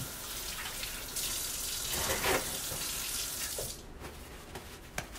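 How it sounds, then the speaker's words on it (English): Water runs steadily from a kitchen tap as hands are washed beneath it, a close hissing splash that stops abruptly near the end, in a kitchen where maple brown sugar bacon is being prepared. "I'm going to wash my hands off real quick so I can touch my camera lens."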